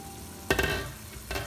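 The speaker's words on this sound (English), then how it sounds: "now my water is boiling, and you can see the onions and everything simmering in this." A pot of boiling water with onions simmering for rice and quinoa, a sudden bubbling, hissing rush that rises sharply, keeps rolling steadily, then surges again near the end.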